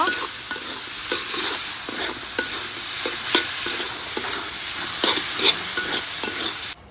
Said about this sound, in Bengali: লতি তরকারির ঝোলটা পুরোপুরিভাবে শুকায় গেছে আমি আরও কিছুক্ষণ নেড়ে চেড়ে তারপর আমি তরকারিটা নামাই নিব